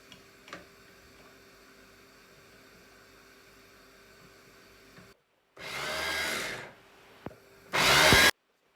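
A food processor grinding ingredients: after a quiet stretch of low hum, two loud, close motor bursts whir, the first lasting about a second, the second shorter and harsher.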